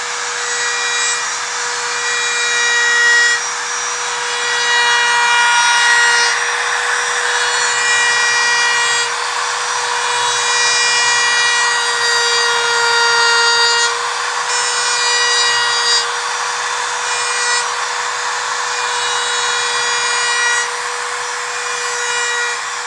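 A power tool smooths the edges of a hole cut into a motorcycle saddlebag, giving a steady, close, continuous grinding whine with a fixed tone that holds for the whole stretch and rises and falls slightly in loudness, with no talking.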